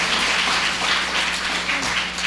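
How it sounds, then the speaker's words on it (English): Audience at a public forum giving panelists a round of applause, a dense, sustained wash of many hands clapping at once, fairly loud and steady for the whole stretch. "Let's just give them another round of applause."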